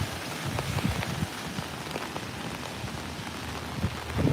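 Steady rain falls outdoors in New York on a hot summer morning, a continuous close hiss with scattered drops and light patter throughout, no voices.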